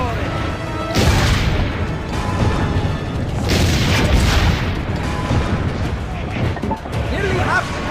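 Cannon fire in the Assassin's Creed Brotherhood video game during a village siege: heavy booms and crashing impacts over a constant loud battle din, with voices talking throughout.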